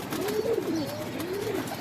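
A young black pigeon, likely male, kept in a female's cage in a dark loft, coos in repeated soft rising-and-falling phrases at moderate closeness, with no talking.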